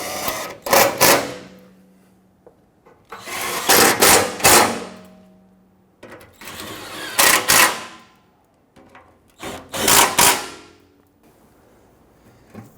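Hand tool tightening oil cooler bolts on a 2005-2021 Nissan Frontier engine, four separate bursts of sharp clicking and metallic rattling spaced a few seconds apart, close and fairly loud with quiet gaps between.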